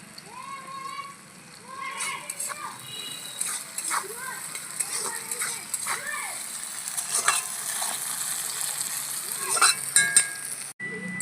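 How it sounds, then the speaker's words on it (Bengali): Onions with a little salt frying in a pan, a soft sizzle under intermittent stirring and scraping, close by, with faint voices in the background. "পেঁয়াজের মধ্যে অল্প একটু লবণ দিয়ে লাল লাল করে ভেজে নেব"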